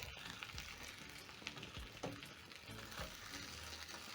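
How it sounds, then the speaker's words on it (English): Sausages sizzling in a pan with browned onions, a faint, steady frying crackle with scattered soft pops and brief stirring clicks, close but quiet, with no talk. "So next I'm going to add back my sausages in the pan."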